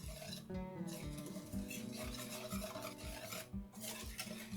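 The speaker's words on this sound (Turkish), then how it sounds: "güzelce karıştırıyorum" Cream is being stirred into a milk chocolate pudding mixture in a pot. Quiet, rhythmic scraping strokes repeat about every half second, close by but faint.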